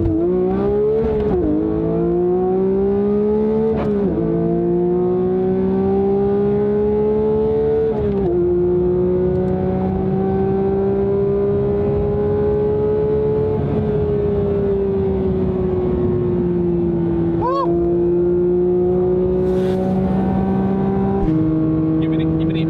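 Porsche 992 GT3 engine holding a high, sustained wail at speed, with a few shifts and pitch changes, heard from inside the car with people talking over it.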